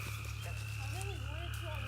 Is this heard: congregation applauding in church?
no